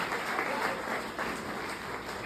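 Audience applause at a Safe Shop business gathering, a dense, steady wash of clapping hands that holds at an even level throughout, with no voices rising above it.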